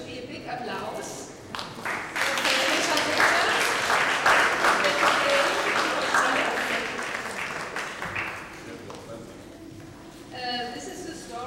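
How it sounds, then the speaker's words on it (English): A crowd applauds warmly, steady clapping swelling then slowly fading, with voices rising briefly at the end. "I think there should be a big applause."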